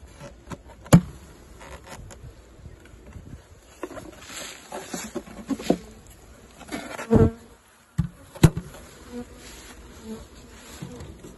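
Honeybees buzzing in an opened hive before winter, strong colony: a continuous close, humming drone with a few louder passes near the ear, plus occasional handling knocks and thumps.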